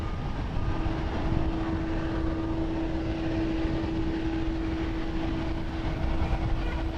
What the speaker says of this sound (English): Triple 7 making its way for departure to Osaka.